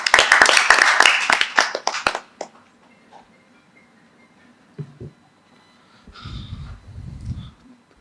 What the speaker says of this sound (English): can I have a round of applause to welcome him on the stage